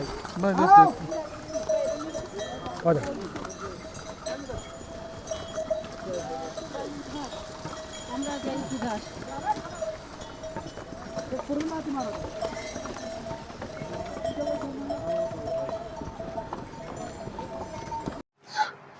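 Soft, irregular clip-clop of horses' hooves plodding along a muddy trekking trail to Kedarnath, mixed with quiet chatter and ambient outdoor noise, fairly faint and steady.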